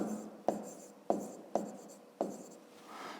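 Handwriting on paper in a maths exercise, with four or five distinct scratchy pen strokes each starting with a sharp tap and trailing off, close and clear with no talk.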